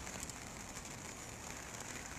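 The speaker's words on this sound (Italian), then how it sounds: "Con l'augurio che queste piogge possano fermarsi il prima possibile" Heavy rain pours steadily over the flooded Bormida river area near Alessandria, a dense, constant hiss with no breaks and no voices.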